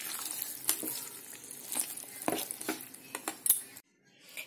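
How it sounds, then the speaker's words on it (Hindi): A spoon clinks and scrapes through pongal with a freshly added tempering in a pan, giving sharp irregular taps with soft sizzling between them, close and fairly loud, ending in a brief quiet. "अच्छे से मिक्स कर लेंगे।"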